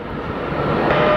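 Airliner after landing at Phoenix Sky Harbor Airport, a steady loud jet engine roar that swells slightly toward the end, with no talk.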